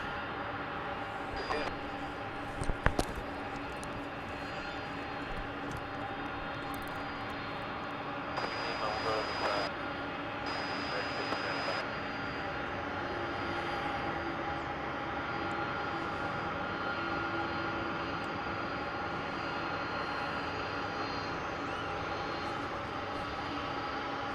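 A McDonnell Douglas MD-11 jet airliner at DFW airport, a broad, distant jet engine roar holding steady throughout at moderate level, with brief clicks and faint tones over it and people talking in the background.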